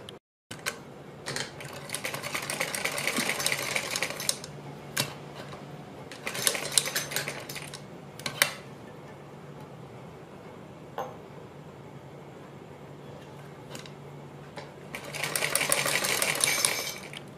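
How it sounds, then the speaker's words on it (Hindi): A sewing machine stitches cord pieces onto a net neck design in short whirring runs of rapid needle clatter, separated by pauses and a few clicks, close and clear with no talk. "इस तरह से इसके ऊपर सिलाई लगाते जाएंगे"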